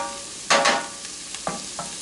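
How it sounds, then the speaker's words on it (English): Sweet onions with a little sugar slowly caramelizing in a pan for French onion soup: a quiet background sizzle broken by a couple of brief stirring scrapes and soft knocks, near and short. "And we'll just let these continue to simmer down slowly and caramelize."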